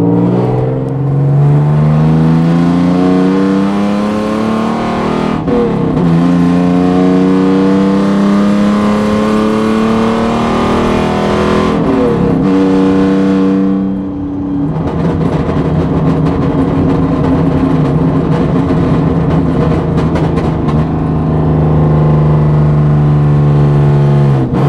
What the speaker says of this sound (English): I'm gonna drive it around for a few minutes just to make sure everything's good